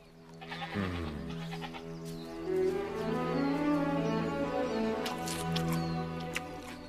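Sheep and goats bleat in an animated scene, several wavering drawn-out calls overlapping near and loud, rising and falling for several seconds with no talk over them.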